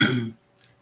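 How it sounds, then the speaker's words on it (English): A person clears their throat once, a short close-up rasping burst that stops abruptly and leaves near silence. "I have to clear my throat."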